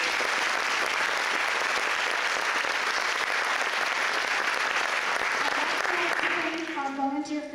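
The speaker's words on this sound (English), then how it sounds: "Round of applause tonight" Sustained applause from an audience at a Coquitlam sports hall of fame awards ceremony, dense and steady before tapering off near the end as a voice begins speaking.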